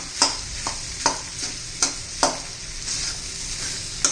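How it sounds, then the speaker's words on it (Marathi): Potatoes for a dry potato-and-pea sabzi are stirred in a sizzling pan, with a spatula scraping in sharp, regular strokes about every half second to second over a steady frying hiss; close and clear, with no talking. "बटाटा चांगला व्यवस्थित मिक्स करून घेऊया"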